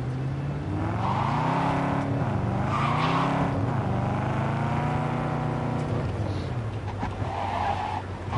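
A car in the Cyberpunk 2077 video game oversteers and skids, its engine droning and shifting pitch while tires scrub continuously and loudly throughout, with no talk over it.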